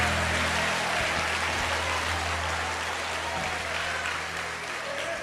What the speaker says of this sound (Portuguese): tome o seu assento aplaudindo a Jesus